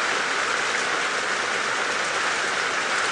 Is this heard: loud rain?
yes